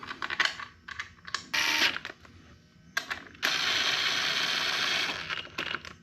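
A ratchet clicks in quick bursts while snugging the final drive bolts on a 139QMB 50cc scooter, with a longer continuous ratcheting run in the middle, close and fairly loud.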